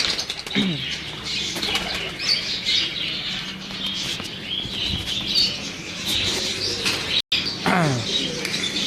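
Teddy pigeons take off and fly, their wings flapping in repeated bursts over a steady outdoor bed of chirps and calls, with one brief dropout near the end.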